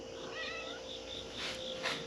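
A cat meows faintly a couple of times over a steady background hum, soft and somewhat distant.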